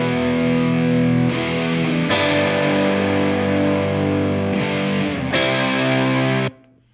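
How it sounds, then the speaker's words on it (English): A heavily distorted electric guitar through a Vox amp with the power amp turned all the way up rings out sustained chords, thick and saturated, changing a few times before cutting off abruptly at the end. "the distortion that we're getting from this Vox amp comes from turning the power amp all the way up"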